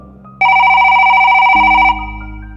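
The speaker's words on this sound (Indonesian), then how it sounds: "telepon di mejanya berbunyi keras, menggetarkan meja" A desk telephone rings loudly, a sharp electronic warble sustained for about a second and a half, then a lower tone takes over as the ring cuts off, with no voices.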